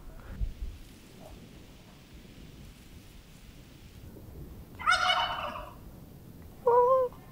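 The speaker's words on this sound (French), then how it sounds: "Le poulailler, il est magnifique." Fowl in a henhouse, chickens and turkeys, give a loud burst of gobbling midway and another short call near the end, over a quiet low background rumble.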